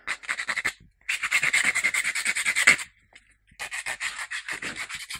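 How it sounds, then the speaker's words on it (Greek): Sandpaper rubs a headphone part in bursts of quick, rhythmic back-and-forth strokes, close and crisp, separated by a short pause. "Το γυαλόχαρτο είναι πιο ωραία λύση, πιο εύκολη από ότι"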